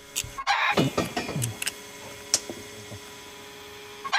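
Chickens cluck in short, scattered bursts at a moderate distance over a steady electrical hum, with no one talking.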